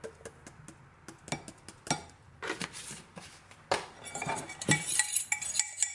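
Sugar and cinnamon being mixed in a bowl, with soft scraping and intermittent clinks of a utensil against the bowl in irregular taps, fairly quiet and close.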